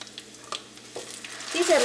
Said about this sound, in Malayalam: ഇനി ഇതിലേക്ക് നമുക്ക് നമ്മൾ അരച്ച് വെച്ചേക്കണം അരപ്പ് ചേർക്കാം